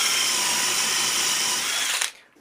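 A power drill driving a 10mm spade bit through wood, a loud close high whine with rough cutting texture for about two seconds, then cutting off sharply as the bit breaks through and the motor winds down.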